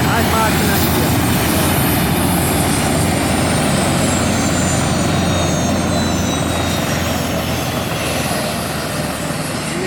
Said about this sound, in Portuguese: Ligaram agora os motores